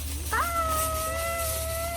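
A cat lets out a single drawn-out, wavering meow that rises and holds for over a second, heard close over a low background hum with no one talking.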